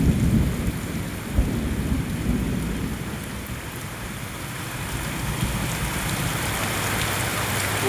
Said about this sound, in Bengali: আর এদিকে মেঘও ডাকছে।